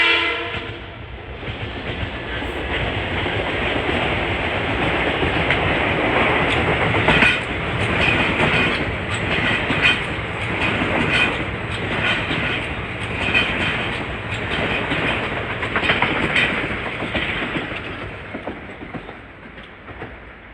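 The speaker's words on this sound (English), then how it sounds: "here comes a very important equipment train from New Rochelle to Grand Central" An equipment train running from New Rochelle to Grand Central rumbles past at length, with rolling wheel clatter and a sustained horn blast, loud and close in the evening.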